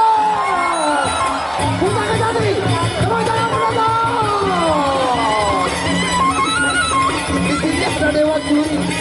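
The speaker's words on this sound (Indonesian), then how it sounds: "Tepuk tangan penonton." Audience at a Legong dance contest between Merembu and Mata Dewa in the Taman Gerung colosseum, a loud dense crowd roar with cheering and shouts throughout, whoops rising over the steady mass of voices.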